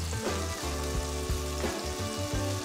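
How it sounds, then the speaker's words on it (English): Seasoned hamburger patty searing in a cast iron pan, a dense, steady sizzle and crackle that runs without a break and with no voices. "let that get a good sear on the bottom of it"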